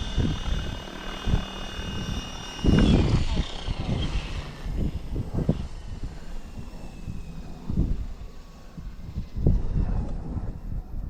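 A radio-controlled model helicopter whines and buzzes steadily as it comes in to land, with a close motor drone, a few thumps and wind buffeting the microphone, and someone talking over it.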